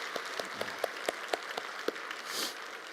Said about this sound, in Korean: 우리 한번 박수로 격려합니다.